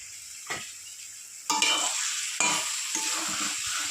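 Ground cumin, chilli and turmeric paste hits hot oil with ginger and onion in a pan for a fish roe curry, bursting into a loud sizzle that surges twice as it is stirred, close and alone.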